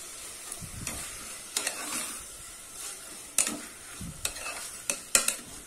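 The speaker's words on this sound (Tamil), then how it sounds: "தக்காளி நல்லா மேஷ் ஆகிற அளவுக்கு வதங்கட்டும்." Tomatoes and mint leaves sauté for vegetable masala rice, soft frying hiss broken by intermittent clinks and scrapes of a spoon against the pan, fairly quiet and close with no talking.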